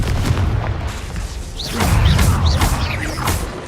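A Confringo fire spell bursts in Hogwarts Legacy gameplay, giving deep booming blasts with whooshing swishes, several impacts rolling one after another without speech.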